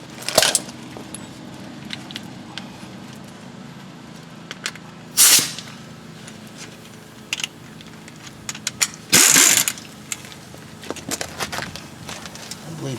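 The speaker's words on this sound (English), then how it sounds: "Let me see if I can get a socket on them with an air gun." Air impact gun spinning a socket on the wheel hub bolts of a 2007 Hyundai Santa Fe FWD during front hub and bearing work, firing in two loud short bursts over steady shop background with smaller clanks between.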